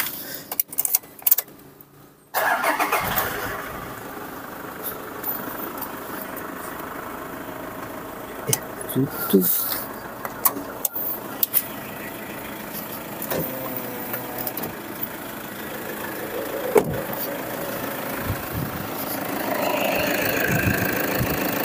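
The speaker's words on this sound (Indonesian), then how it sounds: "Dari suara mesinnya masih bagus, belum ada rembes sama sekali." Diesel engine of a 2013/2014 Toyota Fortuner TRD VNT G automatic starts up and settles into a steady, moderately loud idle, with people talking briefly over it.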